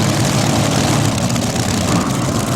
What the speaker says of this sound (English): Keith Black, Hemi engines. JIM-BROCKMAN leans on them heavy, heavy, heavy.